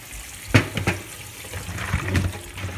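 Water poured off soaked almonds into a container, a short close splash and trickle with a few sharp drops, heard alone.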